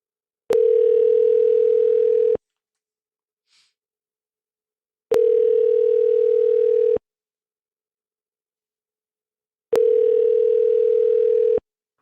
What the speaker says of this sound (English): This is my phone call to Matthew.